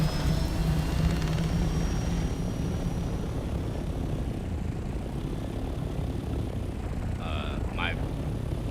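A chopper in the video game Dune Awakening flies with a steady, loud droning rotor roar that runs throughout, with a brief tonal sound near the end.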